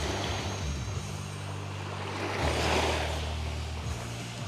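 Small ripple waves lapping on a shore with Karatsu Castle in the distance, a steady soft wash of water under light wind, with no voices.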